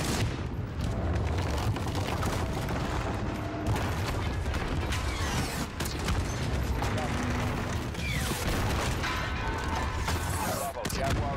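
Dense, sustained battle noise from Call of Duty Modern Warfare, with a missile strike and rapid gunfire rumbling and crackling continuously at high level throughout, with voices faintly mixed in.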